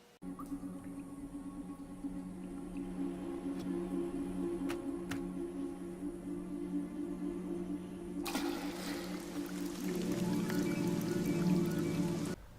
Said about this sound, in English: So, dropping a stone makes it rain.